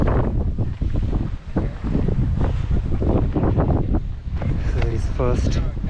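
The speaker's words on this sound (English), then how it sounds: "So it is first wind blowing, and it is cold as hell right now." Strong wind blows through a cold snow blizzard at Brahmatal, roaring and buffeting the microphone loudly and without a break. Faint voice-like sounds rise briefly near the end.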